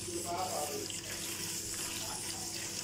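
Running tap water steadily rinses a sponge and a dish at a kitchen sink, a continuous splashing hiss with small shifts as the items move under the stream.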